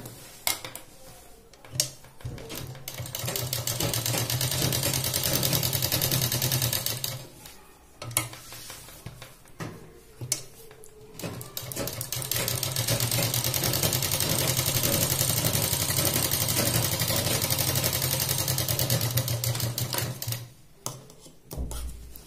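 A sewing machine stitches a double seam along a pant pocket, running in long continuous bursts of fast mechanical whirring and clatter, close and steady, broken by a few short stops to reposition the fabric.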